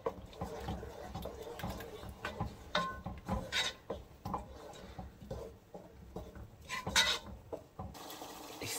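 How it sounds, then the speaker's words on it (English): Meat and rice mixture with adobo seasoning being stirred in a pot for Puerto Rican gandules rice, giving close, irregular scraping and wet rubbing strokes with soft clinks of the pot. "We're gonna give that a good mix"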